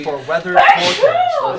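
A single sharp sneeze bursts out close by during a tabletop role-playing game session, with voices chatting just before it.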